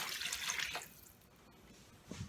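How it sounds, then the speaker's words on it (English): Water poured into a pan holding gravy slurry for hamburger steak, a brief close splashing trickle that fades, followed by a small second splash. "Add a little bit more water to it."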